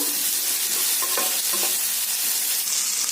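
Onions and capsicum toast in a pan over full gas for a chilli chicken dish, giving a steady close sizzle and frying hiss with a few stirring clinks and scrapes.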